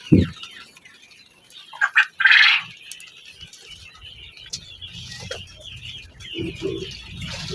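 Scattered bird calls and short clucking bursts from about five hundred laying hens on a poultry farm, with brief louder squawks and soft shuffling noises in between.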